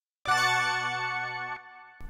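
A single sustained chord from an Arturia Juno-6 synth preset recreating a song's sound rings out bright and harmonically rich for over a second, then cuts off, with a brief new note starting at the end.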